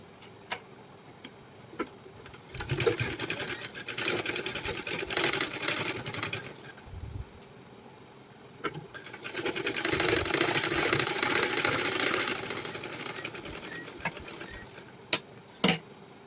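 A sewing machine stitches blouse lining cloth in two sustained runs of rapid mechanical whirring, close and clear, separated by quieter handling clicks and pauses.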